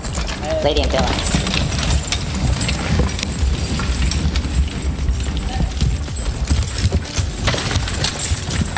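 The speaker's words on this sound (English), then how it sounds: "You can hear the bells and the sound of hooves as they work." Horses' hooves clip-clop steadily as they haul logs through a snowy forest, mixed with jingling bells and a wide outdoor wash of noise, with voices heard intermittently.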